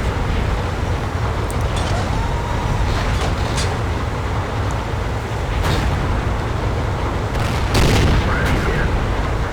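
Tank cannon shots ring out in World of Tanks, with several sharp, loud bangs spread over a constant rumbling engine and battle noise.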